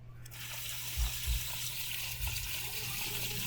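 Water dripping from the CVT case of a Burgman scooter parked on its side stand after cleaning, a few faint, soft drips over a quiet, steady background hiss.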